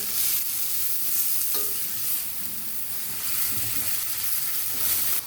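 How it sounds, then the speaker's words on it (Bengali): Bottle gourd leaves stir-fried in a pan, a steady close sizzle with the scrape and toss of stirring running throughout, no talking. "লাউ শাকটাকে দিয়ে ভালোভাবে ভেজে নেবো আমি।"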